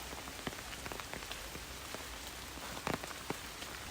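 Heavy rain falls around someone walking outdoors near a city valley, a dense, even hiss of drops with occasional louder splatters close by.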